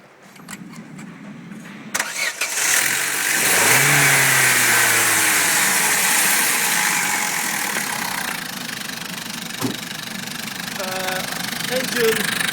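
Vauxhall Corsa 1.2 16v Z12XE engine from a 2003 car starting and running, a loud steady close-up drone with slight rises in revs, preceded by brief handling noises.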